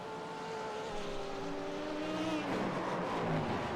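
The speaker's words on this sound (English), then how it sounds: "Whole lot of traffic behind right now. A lot of GT3 cars and a lot of hypercars." Several GT3 race cars and hypercars in the IMSA series of a racing video game drone steadily, their engine notes sliding down in pitch as traffic bunches up close behind. The roar holds a constant level throughout.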